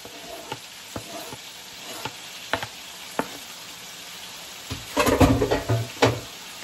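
Okra with corn off the cob and tomatoes sizzles in a pan while a spoon clicks and knocks against the side. A louder burst of frying and stirring comes near the end, with no voices.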